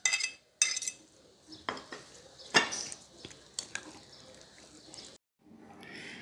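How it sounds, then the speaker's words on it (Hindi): Strawberries gently folded into a bowl of street-style fruit chaat, with soft clinks of a spoon against the bowl and short stirring scrapes coming in irregular bursts, close and fairly quiet. "अब आप इसमें स्ट्रॉबेरी डालकर हल्के हाथ से इसको मिक्स कर लें।"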